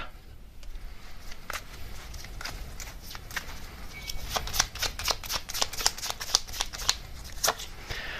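Tarot cards being shuffled and drawn during a love reading, a run of crisp papery riffles and flicks that grows busier and louder toward the end, close and clear with no talking over it.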